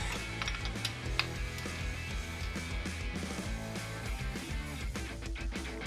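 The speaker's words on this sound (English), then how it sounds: "loosen the rear wheel axle nut and both of the drive chain puller lock nuts" Wrench work loosening the rear axle nut and drive chain puller lock nuts on a Yamaha motorcycle: faint metallic ratcheting and clinking close by, with low mechanical hum underneath.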